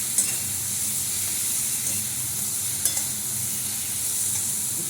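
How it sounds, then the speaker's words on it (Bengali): Spice paste stir-fried in a pan for a home-cooked curry, with a steady bright sizzle and hiss, occasional scraping stirs and small pops, close and continuous with no talk. "কিছু আমার মশলা কষানো হয়ে গেছে।"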